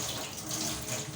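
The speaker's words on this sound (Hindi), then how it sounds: "अब ये पानी खोल लिया मैंने और इस पानी के नीचे ना इसको ना मुसलसल ऐसे" Water runs from an opened tap in a home kitchen, a steady, continuous stream that is fairly close and has no talk over it.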